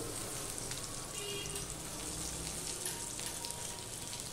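Potatoes frying in hot oil with a dense, even crackling sizzle that holds steady throughout, close and quiet with no voices.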